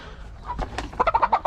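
Four-month-old chickens cluck in a close run of short, rhythmic calls, about six quick clucks in a row after a few softer sounds.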